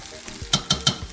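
Yam crackles and sizzles as it fries in a pot, with three sharp bursts of frying noise in quick succession, close and moderately loud.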